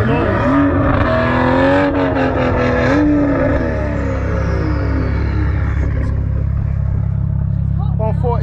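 A tuned 940 bhp BMW M140i with nitrous at Brands Hatch during Tunerfest South, its engine loud and close, revving up and down against a steady low idle rumble.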